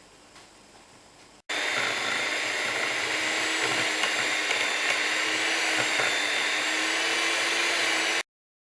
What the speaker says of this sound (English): I'm just about to whisk the butter and then you add the icing sugar